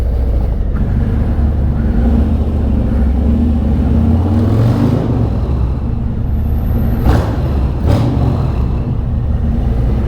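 A motorcycle fitted with a Bassani Road Rage exhaust idles inside a parking garage. The deep, loud, continuous rumble holds steady throughout and echoes off the concrete, with no talking.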